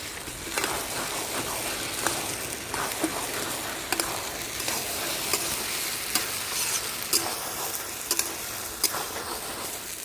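Taro leaf curry with chopped green chillies simmers and sizzles in a pan while a spoon stirs it steadily. Repeated scrapes and clinks ride over a constant frying hiss, close and moderately loud.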